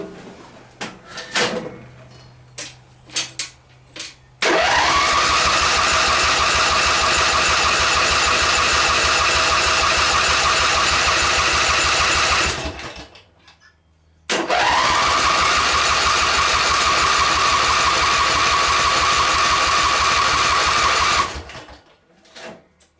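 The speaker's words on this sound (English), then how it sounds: "Right, so now I've got it choked, some fuel in there." Race mower petrol engine, choked and primed with fuel, is cranked after a few clunks and rattles, then roars loudly at a steady pitch for about eight seconds, cuts out, and roars again for another seven seconds before stopping.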